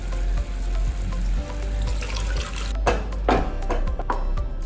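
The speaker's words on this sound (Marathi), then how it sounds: "आता यामध्ये आपल्याला शिजवलेले छोले टाकायचे." Cooked chickpeas go into a pan of sizzling masala for a spinach and chickpea curry; a steady frying hiss swells into a louder burst of sizzling and clatter as they land.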